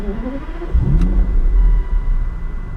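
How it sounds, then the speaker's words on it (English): Aston Martin Virage V12 engine cranking and catching, settling into a deep, loud idle rumble that rises after a short starter whir and holds steady close by. "the V12 startup sound is probably one of the best sounding, probably one of the best car sounds I have ever heard"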